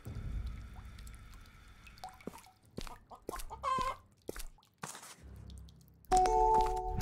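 A chicken clucks in the video game Today Is My Birthday, short scattered clucks and squawks mixed among other sparse game sound effects, moderately loud, with quiet gaps between bursts and no speech.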